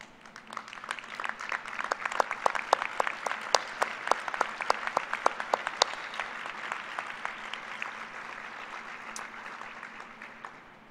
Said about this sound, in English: I ask you, graduates, to please stand and applaud their contributions to your success.